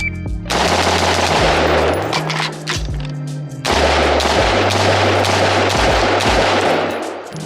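Rapid bursts of gunshots at an outdoor shooting range practice session, loud and close, with a short pause before firing resumes in a fast, steady string.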